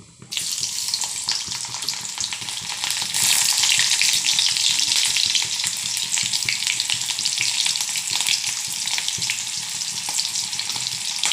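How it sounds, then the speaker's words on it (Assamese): Elephant foot yam pieces fry in hot oil in a wok, giving a loud, steady bubbling sizzle that swells around the fourth second and then holds evenly, with no voices. "এটাত মই কঠমূলখিনি ভাজিম।"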